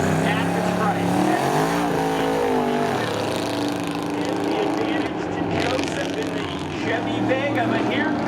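Race cars at Seekonk Speedway, including a 1989 Chevy Camaro, roar loudly and continuously with engine pitch rising and falling as they run down the track, while a commentator talks over the noise.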